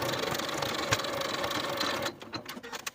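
Sewing machine stitching the center back seams of a Kwik Sew 4162 cardigan jacket, a steady rapid mechanical whir that stops near the end, followed by a few light clicks.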